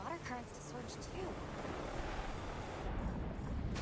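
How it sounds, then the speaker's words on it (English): Heavy rain and surging water currents in a Monster Hunter Wilds trailer make a steady, dense wash of roaring water and downpour, with a voice briefly audible at the start. "Oh jeez, it's a lot of rain. Causing the water currents to surge too."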